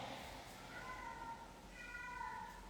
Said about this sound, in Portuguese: Ó o gato.